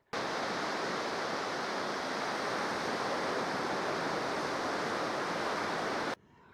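Steady broadband roar of ocean surf at a beach, continuous and fairly loud for about six seconds without distinct individual breaks, ending abruptly, with no voices.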